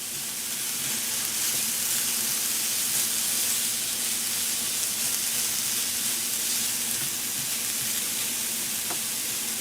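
Mushrooms, onions and kale cooking with a little water in a T-fal Viva eco-friendly non-stick pan, giving a loud, steady sizzle and hiss with faint stirring, close up and unbroken throughout.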